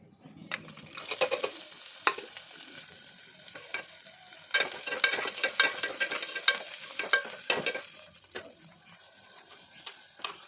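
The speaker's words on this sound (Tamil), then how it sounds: "சேர்த்துட்டு இந்த வெங்காயத்து கூடவே நல்லா வதக்கி விட்டுடலாம்" Chopped onions and curry leaves sizzle in hot oil with poppy seeds for a vegetable kurma, a steady crackling fry broken by repeated scraping and stirring strokes, close and fairly loud with no talking.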